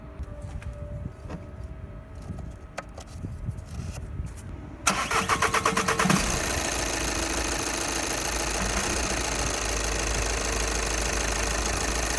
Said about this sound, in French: vous démarrez le moteur et vous faites le niveau